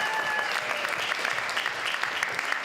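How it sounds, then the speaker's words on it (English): An audience at a college elevator pitch competition claps in a steady, thick round of applause, loud and continuous for the brief stretch with no voices over it. "give yourselves a big round of applause"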